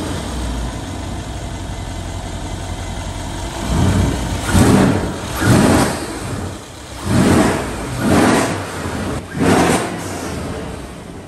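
A Mercedes CLS63 AMG with newly installed aftermarket intakes idles loudly, then revs in five or six strong bursts, each swelling and falling back to a steady idle, close by.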